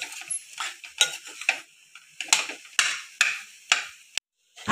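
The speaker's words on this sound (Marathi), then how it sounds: "आता आपल्याला फक्त एक मिनटच परतून घ्यायचं आहे." Salted potato filling for samosas is sautéed and stirred in a pan, producing a series of close scraping strokes with a light sizzle between them, ending in a brief pause.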